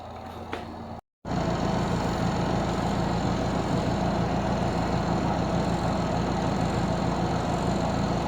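A repaired clothes dryer motor starts after a brief silence, then runs with a loud, steady mechanical hum and rumble.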